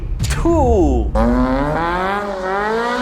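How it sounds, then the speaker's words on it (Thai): A lightweight British Lotus Elise Series 2 sports car with a Toyota engine revs loudly and close by, its pitch sweeping down before climbing again in a steady rising drone. "และเจ้านี่ก็คือ Lotus Elise Series"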